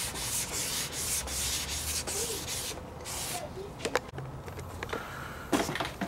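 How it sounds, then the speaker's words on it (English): Wet sanding by hand with 1000 grit sandpaper on a 1985 Honda Gyro part during restoration, a soft rhythmic rubbing in repeated back-and-forth strokes, close and fairly quiet, with a few small knocks. "I've taken some 1000 grit wet sandpaper"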